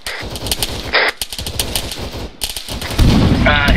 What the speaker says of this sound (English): That might be gunfire.